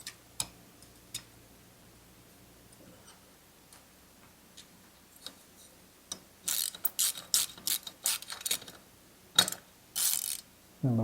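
A ratchet clicks while tightening bolts on a Husqvarna 141 chainsaw during a rebuild, faint ticking at first, then bursts of loud, rapid close-up ratcheting strokes in the last few seconds.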